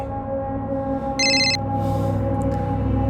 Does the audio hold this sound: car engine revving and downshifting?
no